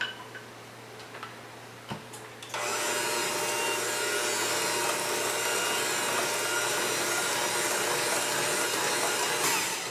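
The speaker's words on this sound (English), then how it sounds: "Then we're going to go ahead and mix this all together" Oatmeal creme pie batter of egg and vanilla being mixed with an electric mixer: light tapping at first, then the motor starts with a loud, steady whir that continues alone to the end.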